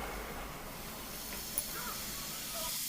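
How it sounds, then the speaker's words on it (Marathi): Soaked dried fish (sukat) sizzles and steams in hot oil in a pan, a steady, even hiss that carries on unbroken and fairly softly throughout. "सुकटीमध्ये पाणी अजिबात वापरायचं नाही कारण ती भिजवल्यामुळे त्याला वाफ निघायला सुरुवात झालेली आहे"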